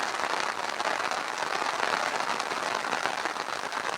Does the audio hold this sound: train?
no